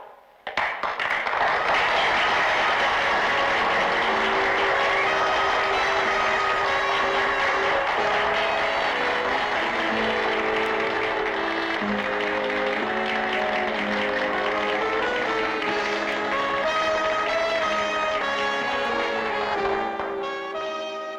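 An audience applauds a beauty contest finalist in a 1962 film, a continuous broad wash of clapping that runs the whole stretch under swelling orchestral music and slowly fades.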